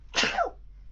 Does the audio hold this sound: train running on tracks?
no